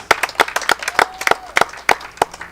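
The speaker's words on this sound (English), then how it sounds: "will you put your hands together and give them a round of applause, please?" A crowd claps at a junior livestock beef cattle show, with sharp, fairly sparse hand claps sounding close and irregular and no voices over them.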